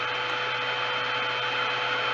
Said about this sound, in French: Là, le ventilateur.